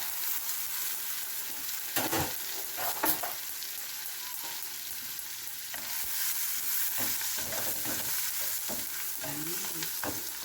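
Garlic sizzles in butter in a pan beside a fish fillet, a constant close frying hiss broken by occasional scrapes and stirring knocks, with no talking.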